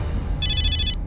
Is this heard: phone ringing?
yes